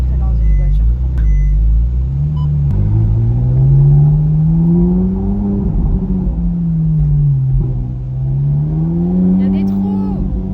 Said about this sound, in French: pour vous faire écouter le V8 Atmo de la 458